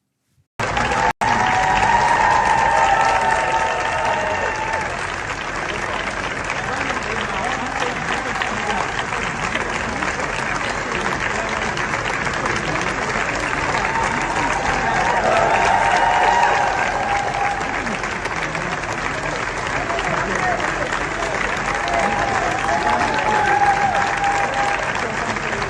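A crowd outside Downing Street cheers and applauds steadily as Andy Burnham arrives, a dense, continuous roar of clapping and voices that stays loud throughout.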